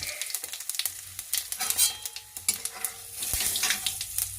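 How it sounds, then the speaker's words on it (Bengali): Garam masala and cumin seeds tempering in hot oil, a crackling, popping sizzle in uneven bursts, close and moderately quiet, with a short utensil knock partway through. "তেলে এবার গরম মশলা আমি সাদা জিরে দিয়ে দিয়েছি ফোড়নে গরম মশলা দিয়ে দিলাম"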